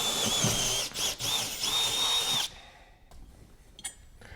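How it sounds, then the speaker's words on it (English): A power drill bores a series of mounting holes for a Minn Kota Terrova bow-mount trolling motor plate, loud whining bursts with brief dips between holes for about two and a half seconds, then stopping into quiet handling noises. "In this case, I'm going to drill 6 holes."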